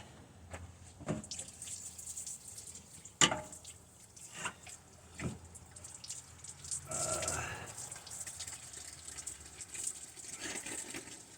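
Coolant draining from the radiator of a 2010 GMC Sierra pickup during a radiator replacement: an irregular splashing trickle with scattered drips and a brief gush, close by, with occasional tool clunks.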